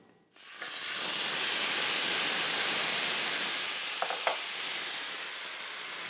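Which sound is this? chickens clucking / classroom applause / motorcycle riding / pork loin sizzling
pork loin sizzling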